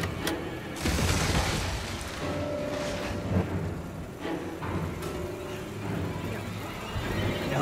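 A monster crashes through a wall in Resident Evil 7, a cramped-house horror game: heavy booming impacts and crumbling debris over low rumbling ambience, several thuds spread across the scene, loud and close.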